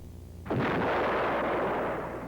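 Lockheed Cheyenne helicopter firing a TOW missile, heard as a single loud, sharp launch blast that breaks into a long roaring rush of noise, close and alone.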